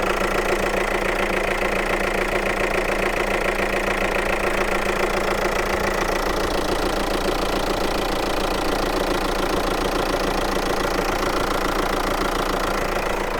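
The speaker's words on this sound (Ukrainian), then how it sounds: "Двигатель, звісно, інтересно робить." A Volkswagen Passat TDI diesel engine runs steadily at idle, loud and close, with a rough knocking clatter and no speech over it.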